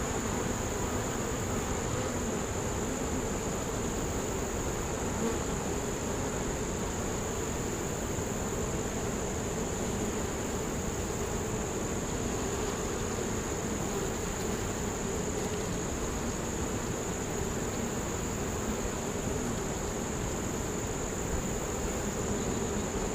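Honeybees buzz around an open hive during a calm inspection, a constant dense hum with a steady high whine running unbroken throughout.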